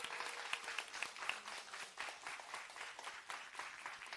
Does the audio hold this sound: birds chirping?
no